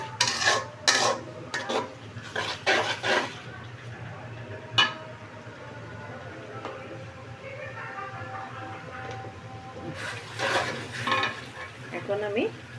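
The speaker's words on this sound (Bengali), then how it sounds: "এখন আমি মশলা সব কিছুই দিয়ে দিয়েছি, ভালো করে আমি ভাজা ভাজা করে তারপরে আমি দিয়ে দেবো।" Spices fry and sizzle in a pan for a chicken roast, with a steady sizzle under repeated close scraping and stirring of a utensil against the pan, in bursts at the start and end and no speech.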